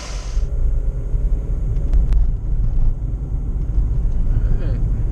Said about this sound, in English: we'll let it warm up and then we'll take it for a test drive